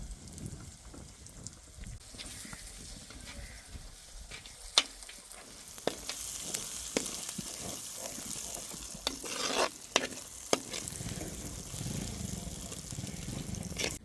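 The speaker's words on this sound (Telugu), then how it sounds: "పచ్చిశనగపప్పుకి మసాలా పట్టేలా కలుపుతాను." Chana dal and masala get stirred together in a sizzling pan for a mushroom curry, with a steady frying hiss under repeated scraping and clinking of the spoon against the metal.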